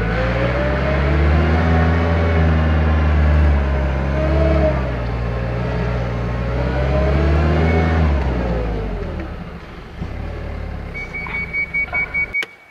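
A Toyota forklift drives with its speed capped. The engine drones at a steady, fairly loud mid pitch with slight rises and falls, then eases off near the end, where a short run of rapid ticking clicks comes in.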